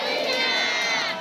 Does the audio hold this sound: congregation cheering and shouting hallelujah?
yes